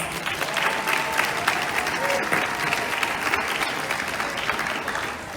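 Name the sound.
festival crowd applause for volunteers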